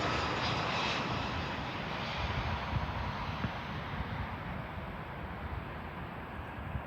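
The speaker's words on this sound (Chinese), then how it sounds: "哇，四川航空的空客 A320。" A Sichuan Airlines Airbus A320 jet lands at an airport in the rain, its engines a steady, broad roar that fades gradually over several seconds.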